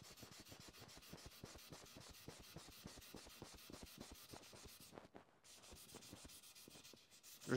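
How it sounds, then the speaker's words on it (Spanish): A carbon skateboard wheel, a Nepest Maui, is sanded by hand in quick, steady back-and-forth rasping strokes that run continuously, with a brief pause partway through. "Vamos a lijar un poco."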